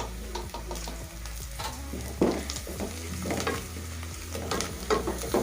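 Curry powder and turmeric fry in a pan for an egg curry, a steady sizzle under repeated scraping stirs of a spoon against the pan, close and moderately loud.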